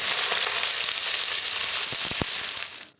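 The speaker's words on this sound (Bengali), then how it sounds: "তার জন্য পেঁয়াজটাকে ভেজে নিই।" Sliced onions fry in hot oil for birista, a dense, even sizzle heard up close with a few soft stirring clinks near the end before it fades out.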